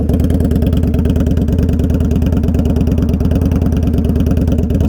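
Indian Scout Bobber motorcycle with an aftermarket exhaust idles close by, a loud, steady, rapid thumping pulse that holds even for the whole stretch.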